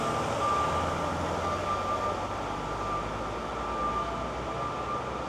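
On a busy cruise ship dock in Cozumel, Mexico, a forklift's reversing alarm sounds as a faint, thin tone half-buried in a steady wash of traffic and engine noise.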